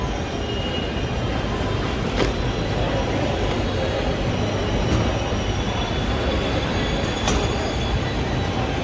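A metro train rumbling through a station, a loud continuous roar with brief clanks and faint squeals, no voices.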